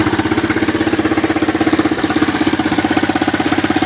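A 1984 Honda 200ES ATV idles close by with a steady, rapid chugging rhythm and a slight knock, running evenly and alone throughout.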